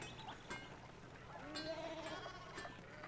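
Sheep in the medieval adventure game Pentiment, a few short bleats, one longer one in the middle, over a quiet ambient background, fairly faint and unaccompanied by speech.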